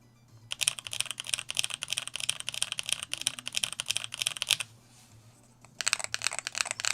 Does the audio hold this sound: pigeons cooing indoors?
no